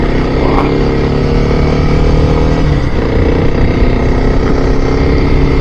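A Kawasaki KLX 300 motorcycle engine drones loud and close under open throttle while climbing a steep mountain road, a steady rough roar with a slight pitch shift partway through and no talk.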